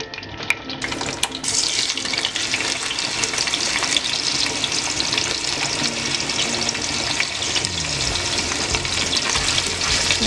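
Chorizo frying in melted lard in a clay cazuela, a steady dense crackling sizzle that fills the whole stretch without pause, loud and close, with a few sharper clicks near the start.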